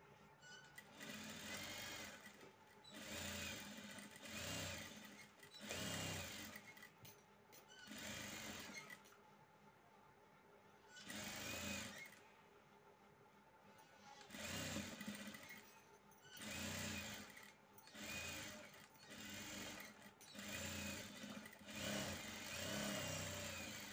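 A sewing machine stitching a lota neck design on a garment, running in repeated whirring bursts of rapid stitching separated by short pauses, close and steady.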